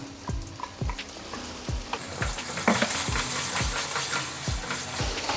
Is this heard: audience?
no